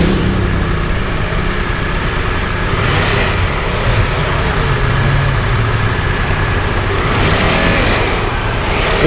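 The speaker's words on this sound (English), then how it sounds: "Listen to these bikes as they come by." Triumph Tiger 1200 motorbikes roar past on a corner at Mount Glorious, a steady loud engine rush with rising and falling swells as each bike comes through, no talking.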